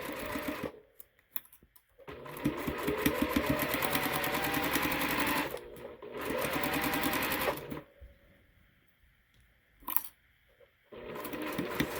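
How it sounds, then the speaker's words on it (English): A sewing machine stitches purple pieces of a Beggar's Block quilt block, running in two long steady bursts with brief pauses and quiet handling between them. "sewing it to the other purple piece"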